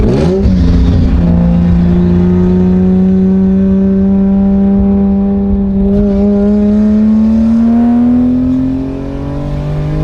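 A Lexus with a swapped 1JZ engine pulling hard under acceleration, its tone rising steadily through one long gear as the strained, buzzy exhaust drone climbs, loud and close from inside the car.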